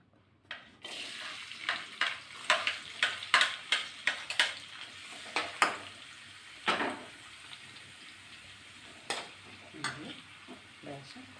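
Onions going into a pan for a Malayalam-style fish curry made with ettah fish, with tomato, green chilli and ginger nearby, give a steady sizzle broken by repeated scraping stirs and clanks, close and fairly loud, with no talking.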